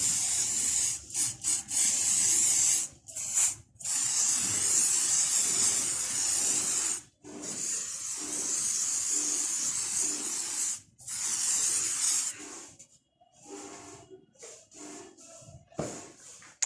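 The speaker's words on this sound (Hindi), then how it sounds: "ये जो पीस हैं इन पे स्प्रे कर लेते हैं" Spray bursts onto fiberglass mold pieces, long loud hissing blasts broken by short pauses, close, with quieter gaps and a few softer sprays toward the end.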